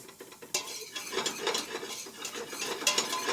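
Curry powder, kaffir lime leaves and lemongrass are sautéed for khao soi, with a soft sizzle under repeated scraping, clicks and clinks of a utensil stirring in the pan.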